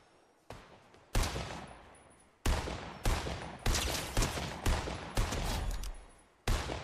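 Bursts of gunfire in the video game Fortnite, about seven sharp, loud volleys of rapid shots at irregular intervals, each trailing off before the next, with no talking.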